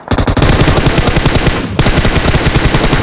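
Sustained automatic gunfire in the shooter game PUBG Mobile, loud and close, a rapid unbroken burst of shots lasting about three seconds with a brief dip before resuming, with no talk over it.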